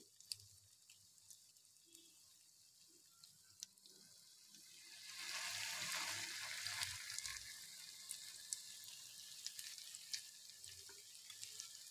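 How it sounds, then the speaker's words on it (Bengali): Doi bora lentil fritters frying in hot oil, a faint sizzle that swells midway as batter drops in, with scattered light clicks and taps around it. "এইভাবে ফ্রেন্ড একে একে বড়াগুলোকে ভেজে নিতে হবে।"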